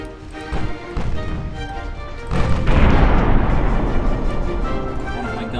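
Warship guns fire in the naval combat game Ultimate Admiral Dreadnoughts, a few sharp thumps followed by a heavy sustained boom that swells and rumbles on for several seconds.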